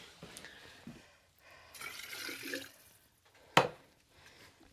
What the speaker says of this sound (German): Also, jetzt tun wir mal das Gesicht waschen.